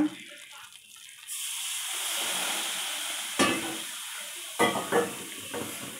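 A hot Mysore Pak mixture in a kadai is stirred, making a soft continuous sizzle with scraping strokes from the spoon and a few louder clanks against the pan.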